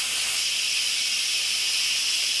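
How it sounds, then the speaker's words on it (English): An Instant Pot releasing pressure after cooking chili gives a loud, steady hiss of escaping steam, continuous and close, with no talking. "go ahead and release the pressure on this"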